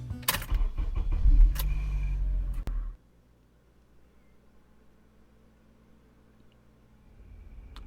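Someone gets into a car and drives off: keys jangle and the engine starts loudly and close by, then the noise cuts out to a low, steady cabin hum, and the engine sound swells again at the end.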